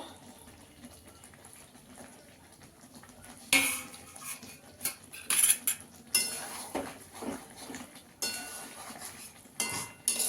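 Shredded cabbage tips into a pan and is stirred in for a Bengali cabbage dish, with scattered clattering scrapes and clinks of utensil against metal, fairly close and moderately loud, no talking.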